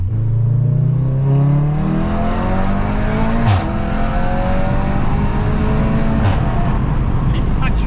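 A 400-horsepower VW Golf 7.5 R with an APR Stage 2 tune accelerating hard, its engine note climbing through sharp, abrupt gear shifts, loud and continuous inside the car.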